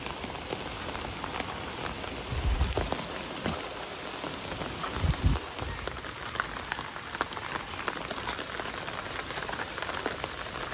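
Heavy monsoon rain pours down steadily near a swollen stream as a constant dense hiss of drops, with a couple of dull low thumps early on and no talking.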